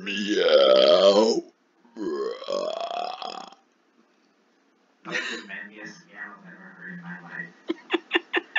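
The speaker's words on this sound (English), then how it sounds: "I've got tons of videos and live streams over on my YouTube of me burping." Several long, loud, gurgling burps in a row, followed by a rapid string of short croaking bursts at the end; no other voices.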